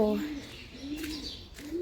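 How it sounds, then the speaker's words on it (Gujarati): Pigeons coo softly overhead outdoors around seven on a cool morning, a few low, gentle coos mixed with faint bird chirps. "સરસ મજાના પક્ષીઓ પણ બોલી રહ્યા છે ઉપર, કબૂતર બોલી રહ્યા છે"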